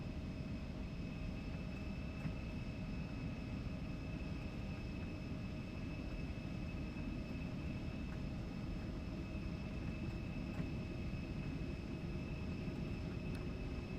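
Embraer E175 jet engines roar steadily through a takeoff roll in the X-Plane 12 flight simulator, a constant broadband rumble with faint whining tones, unchanging in level throughout with no talk.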